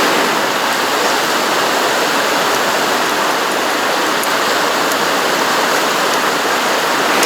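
Fast river rapids near Bovec roar as a dense, constant rushing wash of whitewater, loud and close with no break or voices.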